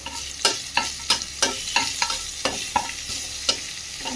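Chopped onion frying with small shrimp, radhuni, white cumin, black cumin and dried chili in a pan, a spatula scraping and knocking in a steady rhythm about three times a second over a constant close sizzle.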